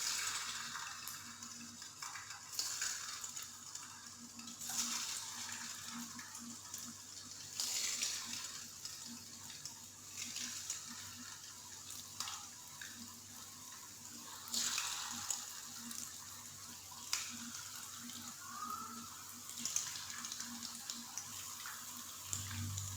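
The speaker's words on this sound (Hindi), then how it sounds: "चिकन को आप लोगों ने अच्छे से फ्राई कर लेना है" Chicken pieces frying in hot ghee for pakora, a steady soft sizzle with occasional louder bursts of crackle and stirring clatter, fairly quiet with a low background hum.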